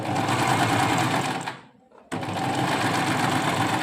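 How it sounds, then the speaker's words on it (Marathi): A domestic sewing machine runs in a fast continuous whir while stitching a plain seam, stopping briefly for about half a second before resuming at full speed; no talk is heard. "आता मी तुम्हाला शिलाई करून दाखवते एक एक"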